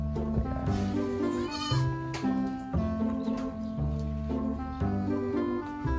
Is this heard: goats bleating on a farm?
yes